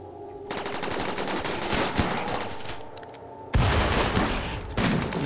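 Rapid automatic gunfire blazes at a centipede in RimWorld, dense bursts running almost continuously with a sharp louder volley midway, no talk over it.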